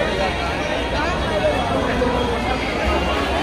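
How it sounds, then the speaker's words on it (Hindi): A dense crowd at the Dongri dargah urs in Mumbai gives off a steady, loud babble of many overlapping voices that continues throughout, with no single speaker standing out. "बाप रे, बहुत दमक भीड़ है यहाँ पे।"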